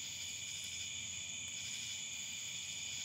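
Cicadas drone in a steady, high continuous chorus at night in a forest, faint and unbroken, with no other sounds.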